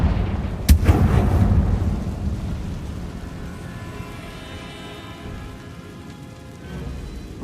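In Hogwarts Legacy, a Confringo fire spell bursts with a sudden sharp crack, then a deep booming rumble that slowly fades, loud and close.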